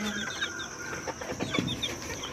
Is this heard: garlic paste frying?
no